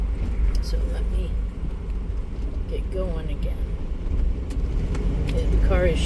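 A Ford car on the road, shaking slightly, gives a steady low engine and road rumble from inside the cabin while someone talks over it throughout.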